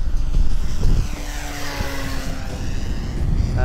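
An H-King J-3 Piper Cub EPO RC model plane with 1400 mm wingspan, on a 4S battery, makes a fast pass at full power into the wind, its electric motor and propeller whining loudly, with a rising and falling pitch as it passes outdoors.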